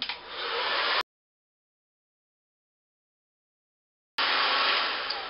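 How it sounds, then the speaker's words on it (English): A hair dryer with a diffuser attachment runs on medium to low heat as a steady, loud airy whoosh. It cuts out abruptly for about three seconds and then resumes just as strongly. "I usually use a medium to low heat depending on how hot I am"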